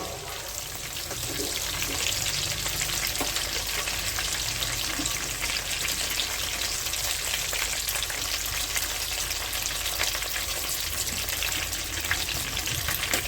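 Squid pieces with chilli fry in a hot pan, a steady dense sizzle with faint crackles that carries on evenly and fairly close throughout, with no talking.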